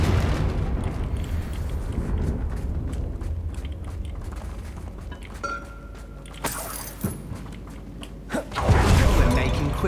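A Confringo fire spell blast in Hogwarts Legacy, a dense roaring burst with a deep rumbling boom near the end, loud and full against busy game combat noise.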